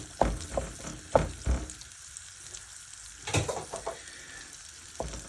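Bacon, onion, garlic and carrots fry in a pan with a soft sizzle, broken by several sharp knocks and scrapes of a utensil against the pan, heard close and quiet.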